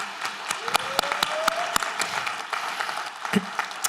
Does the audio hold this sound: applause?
yes